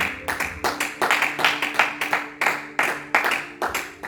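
A church congregation claps in a steady, rhythmic beat, a dozen or more even, firm claps in sequence, close and clear, without voices over them.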